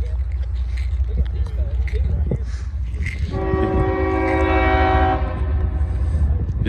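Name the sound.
freight train passing at a rail crossing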